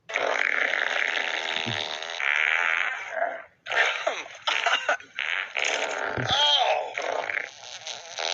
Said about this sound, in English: The camels consistently fart the entire time.